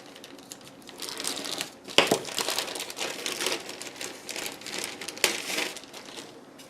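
Crinkly plastic wrapping is pulled open on a 1/48 scale F-22A Raptor model kit from I Love Kit, a steady close rustle with two sharper crackling bursts partway through.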